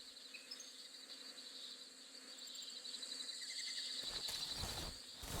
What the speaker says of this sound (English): you can hear the hornets buzzing around there